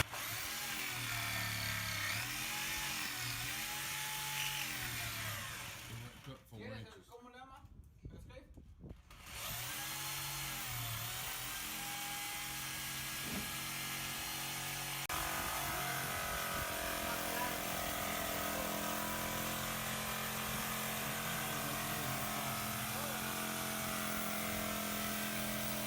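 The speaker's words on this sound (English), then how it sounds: "He gonna cut it with a jigsaw." A jigsaw cuts a curved arch out of a wooden board while rebuilding the front portico of an old jailhouse. The steady motor whine runs for long stretches, with a brief lull partway through and some voices.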